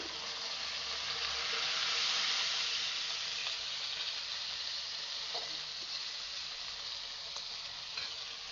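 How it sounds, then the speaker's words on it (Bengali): A paste of onion, green chili, garlic and cumin hits hot oil with a strong, steady hissing sizzle that swells then settles, with faint stirring scrapes and no voices. "পেঁয়াজ বাটা কাঁচামরিচ বাটা রসুন বাটা জিরা বাটা একসাথে দিয়ে দিচ্ছি"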